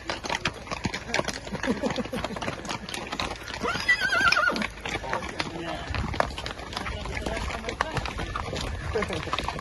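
A horse at a traditional Hutsul wedding in the Carpathian mountains neighs over steady clip-clop of hooves, amid voices and lively crowd noise.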